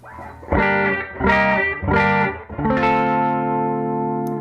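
Humbucker-equipped electric guitar plays several slightly overdriven chords through a 1968 Fender Princeton Reverb amp set dry, each strum sharp and close, the last one left to sustain.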